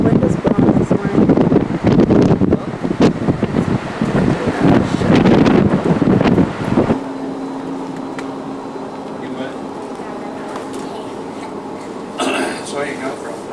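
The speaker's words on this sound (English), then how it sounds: "Ooh, the wind is blowing this morning." Gusty wind blows outdoors on a morning in the United Kingdom, roaring loudly across the microphone for about seven seconds before easing to a steadier low rush, with a voice speaking over it.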